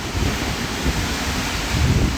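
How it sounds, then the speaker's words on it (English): Strong wind from Hurricane Ian roars continuously against the microphone, a dense, steady rumble with gusts swelling louder near the end, and no voices. "The wind's blowing so hard it's creating a vortex."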